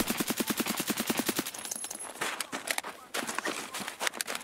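Rapid gunfire in a first-person shooter game, with a tight burst of evenly spaced automatic shots up front giving way to scattered, busier shots and movement noise, loud and close.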